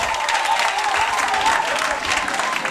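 Church congregation applauding loudly and steadily during a healing service, a dense continuous wash of clapping with a brief sung or voiced tone threaded through it.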